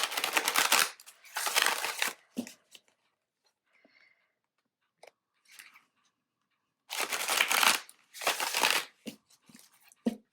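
A tarot deck being shuffled, with a few loud rustling bursts of cards at the start and again later, separated by near-silence and faint small handling noises.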